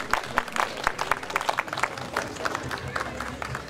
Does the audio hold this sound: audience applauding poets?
yes